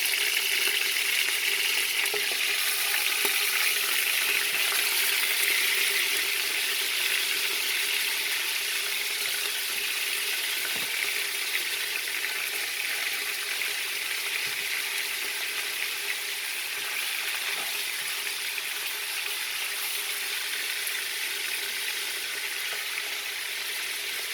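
Pork neck bones searing in a hot pan give a steady, dense sizzle and crackle that holds evenly throughout, close and continuous with faint pops and no talking.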